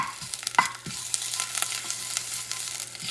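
Ginger added to hot oil sizzles in a steady, close crackle, with a few light utensil taps and stirring scrapes over a brief stretch, no voices.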